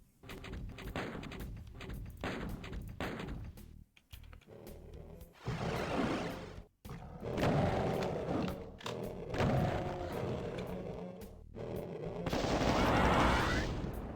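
Gunfire from the video game Doom 2 comes in loud, repeated bursts of shots and booms, separated by short pauses and rapid volleys across the stretch.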